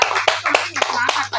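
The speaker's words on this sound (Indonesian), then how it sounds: "Tepuk tangan dulu." A group of people claps hands in a fast, uneven burst of sharp slaps at a prayer gathering, close and loud over a steady low hum.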